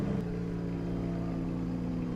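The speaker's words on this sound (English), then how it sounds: "That was the second place car that just pulled up to me and he revved his engine" A rival car's engine idles and revs in a steady low drone in a sim racing game, close and continuous for a couple of seconds.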